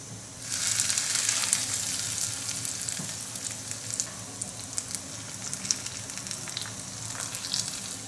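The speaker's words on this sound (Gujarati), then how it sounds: "હવે આપણે આ વઘાર છે તે ચટણીમાં રેડી દઈએ" A loud, steady sizzle as hot tempering oil is poured into coconut chutney, with small pops and crackles continuing as it settles.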